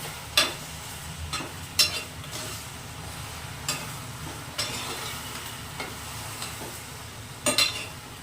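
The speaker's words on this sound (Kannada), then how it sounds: "ಇವಾಗ ಇದು ನೀಟಾಗಿ ಫ್ರೈ ಆಗಬೇಕು." Okra (bhindi) fries in a pan under a steady low sizzle, broken by a few sharp, spaced strokes of a stirring spoon against the pan, close and fairly quiet, with no talk.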